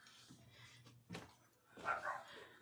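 A pet dog lets out a few short barks and a soft whimper, irregular and moderately close, with quieter rustling and room noise in between.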